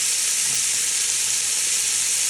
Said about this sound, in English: we're going to let this sear almost to about right before it caramelizes